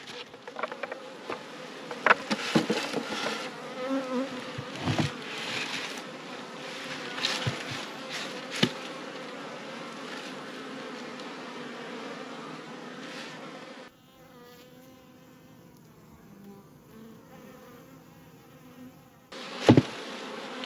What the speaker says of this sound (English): I'm just going to quickly shake out the last of these bees and see if I can find the queen.